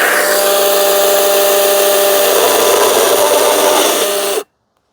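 A chainsaw runs at high, steady revs, then bites into wood. The loud, continuous engine whine holds for about four and a half seconds and cuts off abruptly.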